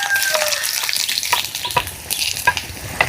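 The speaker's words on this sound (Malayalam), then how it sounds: "അതിലേക്ക് നമുക്കിതാ കുറച്ച് ഉള്ളി അരിഞ്ഞത് ഇട്ട് കൊടുക്കാം." Chopped onion sizzles and crackles steadily in hot coconut oil, with a few stirring scrapes and short clinks breaking through the constant frying hiss.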